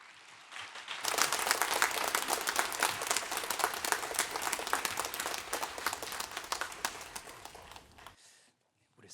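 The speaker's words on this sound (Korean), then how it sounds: "나오실 때 큰 박수로 환영해 주시기 바랍니다" A church congregation at a Wednesday worship service claps to welcome a visiting pastor. The many hands start after a brief quiet moment, carry on steadily and fairly close for about seven seconds, then stop abruptly.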